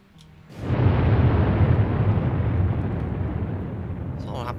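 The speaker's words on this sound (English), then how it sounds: "Some sonic booms earlier." A Concorde sonic boom in a flight simulator game erupts suddenly as a loud, deep rumbling blast that rolls on and slowly fades over several seconds, with no voices over it.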